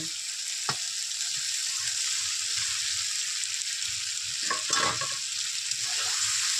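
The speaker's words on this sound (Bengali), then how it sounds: "ভালো করে ডিমগুলোকে আমি কষিয়ে নেব" Boiled eggs are stir-fried in a pan of thick egg curry masala, with a steady close sizzle broken by a few scraping stirs and spoon knocks and no talking.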